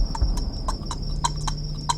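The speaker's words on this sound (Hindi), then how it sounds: "वहां के पहले घर में चारों ओर निगरानी करते हुए एक प्रेत घोड़ा घूम रहा था" Horse hooves clip-clop in a slow, even rhythm through a spooky ghost-story scene, each hoofbeat a crisp knock over a low, steady ambient hum.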